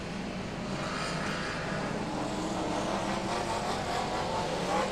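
BriSCA Formula 1 stock cars race on a track, engines roaring in a steady, dense wall of noise from a distance, loud and continuous with no pauses.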